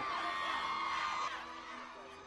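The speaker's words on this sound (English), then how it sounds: "all you have to do is sort of turn around and wave, and they scream" Fans of Daniel Radcliffe scream and cheer in a dense, high-pitched crowd roar that holds steady, then drops slightly, with voices mixed into the din.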